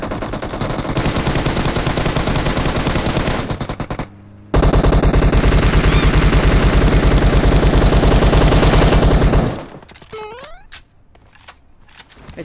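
Sustained automatic gunfire in PUBG Mobile, loud and close, hammering on almost without pause, broken once by a brief gap, then cut off and trailing into quieter scattered shots.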